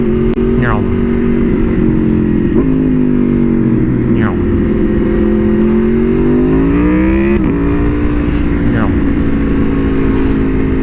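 Motorcycle engine revving and accelerating through several gear shifts while riding on a road, loud and steady throughout.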